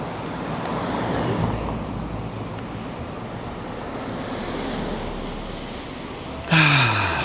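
Steady, broad wash of sea waves breaking on the shore at Playa Paraíso on a calm, sunny day, with a soft wind rumble underneath and a brief louder breathy sound near the end.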